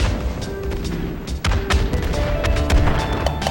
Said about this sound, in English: Keep in mind the bombs dropping.